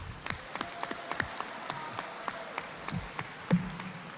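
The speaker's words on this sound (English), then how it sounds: "How about a round of applause for all those that have got something today?" Scattered applause from a school awards assembly crowd, irregular individual claps rather than a full ovation, sounding in a large room for a few seconds before tapering off.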